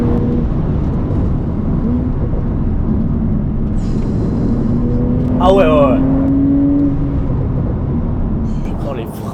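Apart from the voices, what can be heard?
Porsche 992 Turbo S accelerating hard on the road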